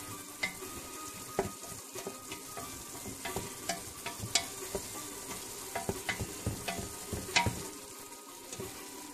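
Chicken filling for pastilla cooks gently in a pan, giving a soft, even sizzle punctuated by repeated scraping and tapping strokes as it is stirred, fairly quiet and close, with no talking.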